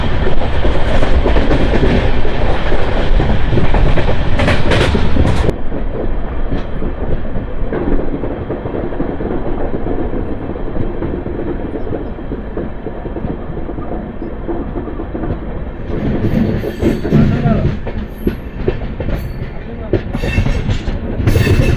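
LHB coaches of train 12747 on the Guntur to Vikarabad run rush through New Piduguralla junction, loud steady rumble with rhythmic clickety-clack of wheels over points, heard from inside the moving train.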